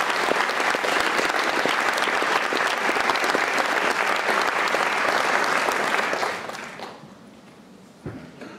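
Audience applause greets Dr. Timothy Snyder, author of Bloodlands, as he is welcomed to the stage at a lecture. Loud sustained clapping from a large crowd fills about six seconds, then thins and fades, with a brief final burst.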